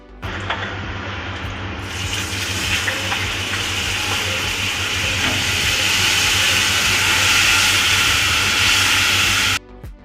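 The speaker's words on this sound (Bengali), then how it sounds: "মশলাগুলোকে কড়াইতে দেওয়ার পরে আমরা এতে সামান্য পরিমাণে জল দিয়ে দেব এবং জল দেওয়ার পরে এই মশলাগুলোকে আমরা কষিয়ে নেব।" Ground spices being fried with a splash of water in a kadai sizzle with a loud, steady hiss that starts almost at once, grows fuller after about two seconds, and cuts off abruptly near the end, with no voices.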